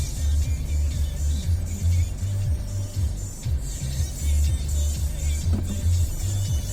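A motorcycle taxi tricycle rumbles nearby at the Cagsawa Ruins, its engine droning low and steady with rhythmic pulsing as it passes, no voices over it.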